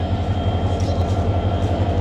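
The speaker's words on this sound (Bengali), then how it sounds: "আখાউড়া জংশন রেলওয়ে স্টেশনে আছে এই যে আমাদের ট্রেন চট্টলা এক্সপ্রেস" The Chattala Express train stands at Akhaura Junction railway station, its locomotive giving a loud, steady low rumble with a faint rhythmic pulse, close by and with no talk.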